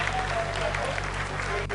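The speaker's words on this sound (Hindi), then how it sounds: "आप तालियों के गड़गड़ाहट से सुन सकते हैं कि हम लोगों ने तीसरे चरण को भी बहुत ही सफलतापूर्वक हासिल कर लिया है" Steady applause rises from a crowd in ISRO mission control during the Chandrayaan-3 lunar landing. The clapping is dense and continuous, with a faint voice underneath.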